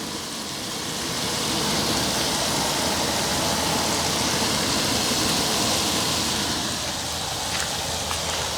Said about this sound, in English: we're going to be adding 4 cups